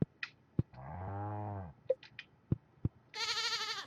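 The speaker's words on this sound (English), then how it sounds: "Of course, I named a goat Toriel." Goats in a Stardew Valley barn bleat in short nasal cries, one long low bleat then a higher wavering one, between soft clicks and game blips, clear and close.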